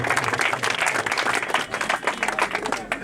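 Crowd applause at a kabaddi final between Sahiwal and Zafar Kabaddi Club in Okara, a dense, steady wash of clapping from many hands that carries on throughout with no pause.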